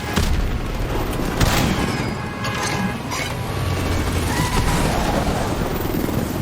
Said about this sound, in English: Troop transport hits a little rock as it spirals out, causing an explosion as some rocks are falling from the mountain.